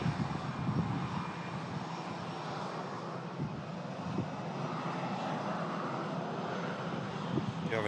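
An airliner departs with its jet engines producing a steady, broad roar that holds evenly throughout, moderately distant, with some wind noise over the microphone and no clear talk.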